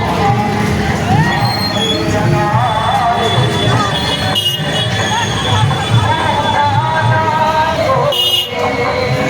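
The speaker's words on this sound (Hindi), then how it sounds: "देखिए कितनी भीड़ अभी है, इतनी भीड़ है।" A dense crowd fills a market street in Sihora during the Navratri festival, with a constant loud wash of chatter and voices, some music-like tones and occasional sharp bursts, and a person talking throughout.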